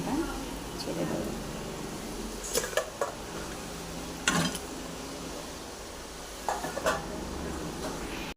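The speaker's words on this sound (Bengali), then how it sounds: "এবার আমি মাংসটা ছেড়ে দেবো।" Chicken pieces dropped into a hot pan for a Bengali kosha mangsho curry and stirred, giving a soft sizzle with a few sharp clinks of the spoon against the pot, while someone talks over it.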